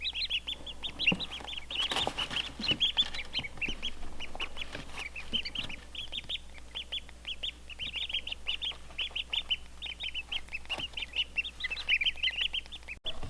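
Newly hatched Swedish duck ducklings peep constantly from an incubator, a dense, close chorus of high, rapid chirps overlapping throughout over a low steady hum.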